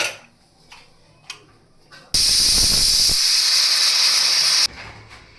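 A pressure cooker on the stove, boiling green chickpeas in salted water, lets out a loud, continuous steam hiss for a couple of seconds after a few faint ticks, then stops abruptly.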